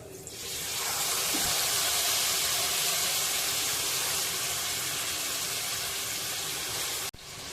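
Marinated mutton hits hot tempering in a pan, a sudden broad sizzling hiss that holds steady and fairly loud for several seconds before cutting off abruptly.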